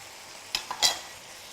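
A spoon scrapes and stirs browned mince with thin-sliced carrots and capsicum in a frying pan: three quick close scrapes with a soft sizzle underneath, then the sizzle fades away.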